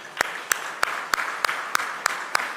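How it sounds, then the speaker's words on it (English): A slow rhythmic round of clapping at the FICCI Frames Fast Track inauguration, with about eight sharp, evenly spaced claps over a steady, softer background of crowd noise. "A round of applause for us all."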